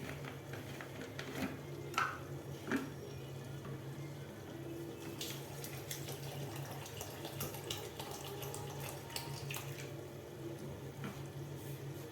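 A kitchen tap runs steadily into a bowl while kalijira rice is washed, a soft continuous splash with occasional sloshes and small knocks, fairly quiet and without talk.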